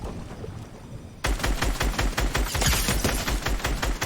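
Rapid assault rifle fire in Fortnite erupts after a moment of low background, a loud, dense burst of repeated shots continuing without pause.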